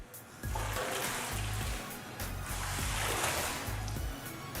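About four quarts of water and rennet mix are poured into a pot of milk, a loud, continuous rushing splash with a rhythmic low sloshing throughout, close to the microphone and with no speech.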